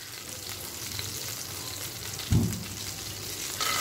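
Ingredients for potato paal curry fry in a pan with an even, rain-like sizzling hiss, close and constant, interrupted once by a single dull low thump.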